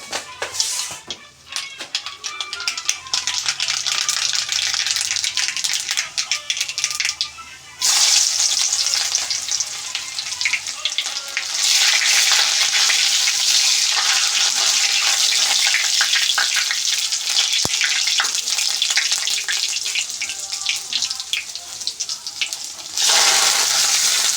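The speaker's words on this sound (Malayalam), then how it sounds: "അപ്പോൾ കടുക് വറക്കുകയാണ്." Mustard seeds frying in hot oil for an iron tamarind (bilimbi) pickle, a loud continuous crackling sizzle with a brief dip near eight seconds before the spitting resumes strongly, alone without talk.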